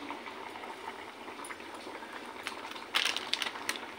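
Dal, a light sour lentil dish, bubbling in a pot as a steady close simmer of soft popping and hiss, with a few brighter bursts near the end.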